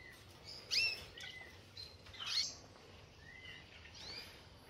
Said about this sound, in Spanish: ahí en el árbol tenemos uno de los jilgueros